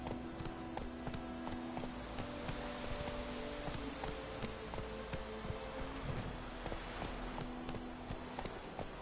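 In Witcher 3, the horse Roach walks along, its hooves giving a steady run of clopping taps on the ground, fairly loud and close, alongside a low, constant background din from the game.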